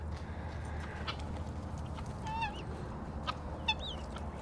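Pearl guinea fowl give a couple of short, sharp honking calls over a steady low outdoor rumble, faint and a little distant, with scattered small clicks between.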